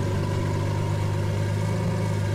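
Idling V12 engine of a Lamborghini Revuelta in the video game Driving Empire, a steady low rumbling burble at moderate loudness, close up and alone with no voices.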